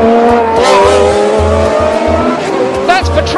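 A Formula One race car driven by Riccardo Patrese skids off the track into the tyre barrier, tyres screeching loudly over a pulsing engine wail, with a commentator talking over it.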